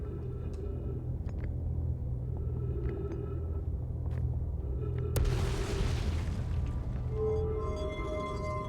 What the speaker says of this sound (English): I'm not actually sure what firing the cannon does.